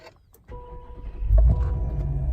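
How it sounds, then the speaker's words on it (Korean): A tuned Hyundai Equus VI limousine cranks and catches, rising into a deep, rumbling V8 idle that swells louder, heard up close with no talking. "시동부터 한번 걸어 보겠습니다"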